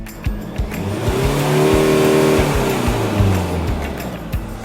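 An older diesel car with a freshly cleaned DPF filter revs up to about 4000 rpm, its engine note climbing loud and close, then holding and easing back down, with some ticking clatter underneath.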